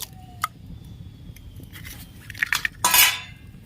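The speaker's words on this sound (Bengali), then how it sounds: "ডিমটা ফাটিয়ে নিচ্ছি" An egg cracks against a hard kitchen edge while egg rolls are made village style. Two sharp, close taps are followed by a brief, louder crackling burst in an otherwise quiet room.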